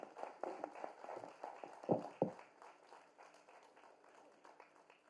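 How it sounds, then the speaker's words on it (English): Audience clapping hands at a conference panel session in a hotel hall, a dense patter of many claps with a few sharp louder claps that thins out toward the end, fairly faint and without talk. "You can keep your hands clapping."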